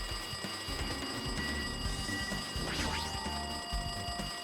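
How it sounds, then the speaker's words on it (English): An electronic phone rings in the video game Danganronpa 2 as a bright, repeating trill, sitting fairly faint under game music and ambient effects. "It looks like that phone is ringing."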